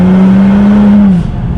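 A Nissan GT-R cruising at about 54 mph in sixth gear gets half throttle, a loud steady engine drone that holds level for a second before easing off.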